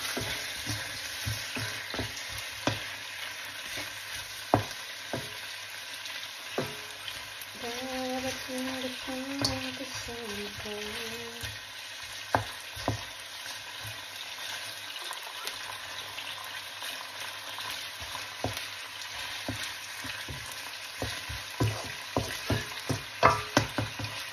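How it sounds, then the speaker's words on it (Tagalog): Chicken frying in a pan with a steady sizzle, broken by repeated scraping stir strokes and a few sharper utensil knocks throughout. "So, haluin na natin ang ating chicken."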